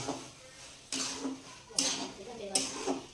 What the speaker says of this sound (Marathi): विलायची पावडर विलायची बघा बारीक केलेली आहे तिने टाकून घेते सगळं मिक्स करून घ्यायचं